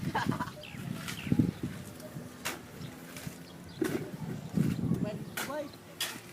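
Soft, scattered clucking of chickens in the background, with people talking intermittently over it.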